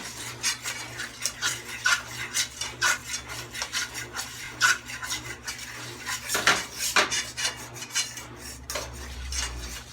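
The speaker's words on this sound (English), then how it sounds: "somebody said he's scratching up his pan" A utensil scrapes and stirs against a pan while a flour roux browns, giving quick, irregular metallic scrapes close by over a low background hum, with no talking.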